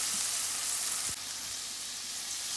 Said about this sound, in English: I just added my onion, and I'm gonna let it soften up a bit before I go in with my garlic.